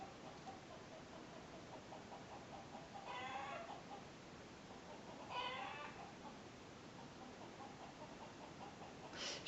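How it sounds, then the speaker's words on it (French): A rooster clucks and crows excitedly in short bursts at a distance, faint over steady background hiss. "je pense que vous entendez mon coq qui est en train de s'exciter"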